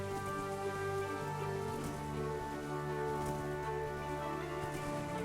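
Steady rain in a video game, a continuous soft hiss of drops on surfaces with a droning tonal background underneath, even and moderately quiet throughout, no voices.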